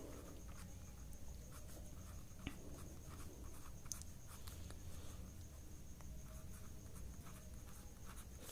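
Steady faint scratching of writing on a board during a Hindi-language maths lesson on pairs of linear equations in two variables, continuous and soft with no talking.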